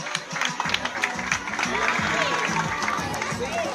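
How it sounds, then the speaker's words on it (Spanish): Crowd at a charity event trophy presentation applauds the men's second-place winner, steady clapping mixed with cheering and chatter while music plays underneath. "Fuerte el aplauso para Héctor Gómez"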